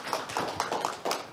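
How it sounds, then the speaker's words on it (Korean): An audience at a Korean peace-diplomacy conference session claps briefly, a handful of distinct hand claps in a soft, uneven patter. "우리 박수를 한번 모실까요?"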